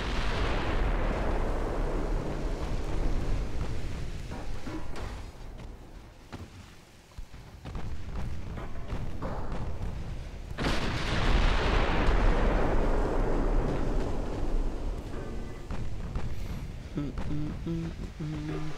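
Warship guns firing in the naval battle game Ultimate Admiral, set in a 1920s German campaign, give loud, booming, repeated salvos with rumbling blasts that swell and fade under ongoing chatter.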